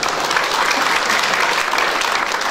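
Steady, dense applause from a large church congregation, loud and unbroken for the whole stretch, with no voices standing out.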